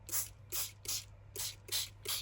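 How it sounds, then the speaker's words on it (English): Spray bottle holding a little coffee misted onto sheets of paper for distressing a junk journal, six quick hissing spritzes in an even rhythm, close and crisp over a faint low hum. "that's just a spray bottle with a little bit of coffee in"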